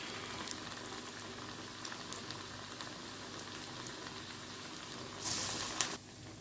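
Telugu-style lentil fritters (garelu) frying in hot oil give a steady, dense bubbling sizzle throughout, close and moderately loud, with a brighter burst of crackling near the end.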